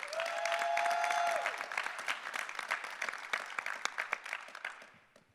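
An audience at a radio broadcasting conference applauds a speaker, steady clapping that starts strong and gradually tapers off, with a tone sounding briefly at the start.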